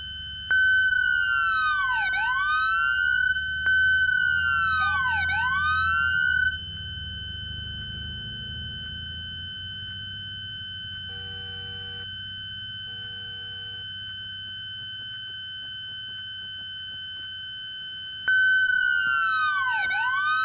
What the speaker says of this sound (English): I'm trying to get the sirens.